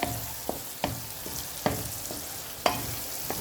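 Eggs are stirred into frying masala in a pan, with a soft sizzle running underneath and about half a dozen sharp spatula scrapes and clinks at irregular intervals, close by with no talking.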